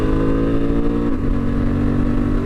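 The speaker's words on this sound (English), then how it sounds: "This is such a nice motorcycle to ride." Steady engine drone of a Honda Transalp 750 motorcycle while riding, loud and continuous with a slight pitch shift partway through, no voices.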